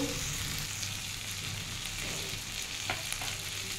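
Cumin and chili powder sizzle steadily in oil over softened onion and tomato in a pan while cooking a spicy bitter gourd dish, a continuous close, loud frying hiss with faint stirring, no voice present.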